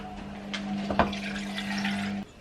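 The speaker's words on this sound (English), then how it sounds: "I'm going to fill it about halfway with water" Water pouring from a tap into a small glass to fill it about halfway, a steady close running and filling sound with a brief splash near the middle, cut off abruptly near the end.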